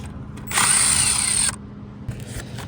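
A power drill spins for about one second to unscrew a part from the shaft of a failed condenser fan motor, a loud steady whine that stops abruptly, followed by faint handling clicks.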